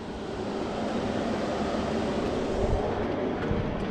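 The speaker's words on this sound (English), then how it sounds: "That noise you heard was the condenser." The air conditioning condenser fan of a 2006 Sprinter van makes a steady, broadband mechanical whoosh and hum, running continuously at moderate level nearby.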